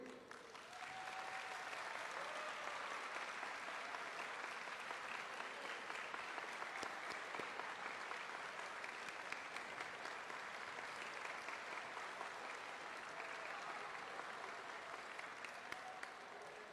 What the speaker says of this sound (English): I want us all to give a warm applause